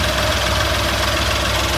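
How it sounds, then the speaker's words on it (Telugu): A 2014 Ashok Leyland Dost LS light truck with a fully rebuilt diesel engine idles nearby, giving a steady loud clattering rumble with a constant knocking tone throughout. "ఆల్రెడీ బండి స్టార్ట్ అయింది."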